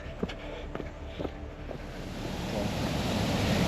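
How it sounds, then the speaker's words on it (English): Steady rushing water swells louder toward the end, a broad roar building while approaching Rainbow Falls, with a few footsteps early on. "I can hear a waterfall coming."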